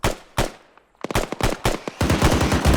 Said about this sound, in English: Oh, another RPG round.